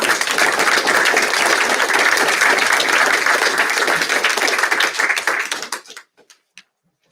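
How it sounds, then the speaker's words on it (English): A room of people at a school district board meeting clap loudly and steadily for several seconds, then the applause tapers off into a few scattered final claps and silence. "Let's give them a round of applause."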